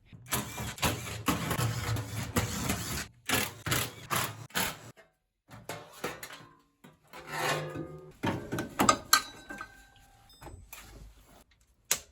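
A Bosch WFF1401 washing machine motor with worn bearings grinds and rasps in uneven bursts, with short pauses between runs, fairly close and loud.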